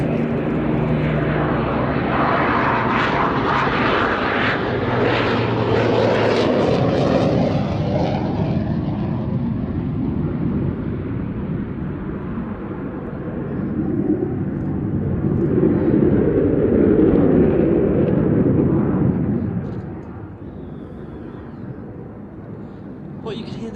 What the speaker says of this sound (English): those beautiful engines of the Lancaster, and then completely overtaken by the roar of the Typhoon